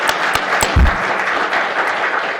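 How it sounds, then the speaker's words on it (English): Audience applause for local poets after their readings at a poetry and barbecue event, a dense, steady wash of clapping from a crowd with a heavier thump near the start, sustained loudly throughout. "Another round of applause"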